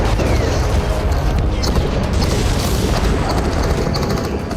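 A US Marine fires his weapon in war footage from Ukraine. Several sharp reports punch through a dense, loud, noisy battlefield wash that runs throughout.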